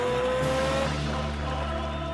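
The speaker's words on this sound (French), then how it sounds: "les fans de moto reconnaissent le son typique d'un moteur Ducati." A loud, steady Ducati motorcycle engine roar with a deep throbbing rumble and sustained harmonic drone, revving slightly then holding, with no voices.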